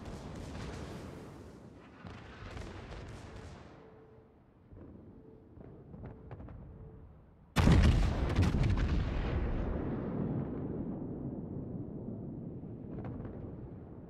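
Naval guns fire in a World of Warships battle between a Yamato and a Großer Kurfürst: distant booming rumbles and scattered shots, then one heavy, close blast whose long rolling rumble trails away.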